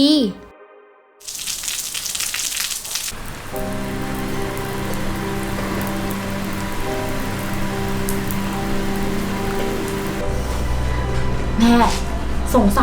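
Steady rain hisses and patters on a surface while music and voices play over it.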